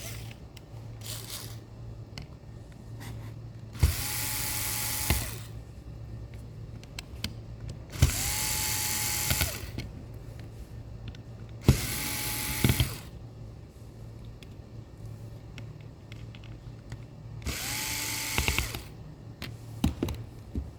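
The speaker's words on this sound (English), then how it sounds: "Now we're going to use our screwdriver to remove these 4 screws." A screwdriver works four faceplate screws loose from a HydraGo. The clip has four separate bursts of ratcheting, whirring tool noise, each about a second long, set apart by quieter pauses and a low steady hum.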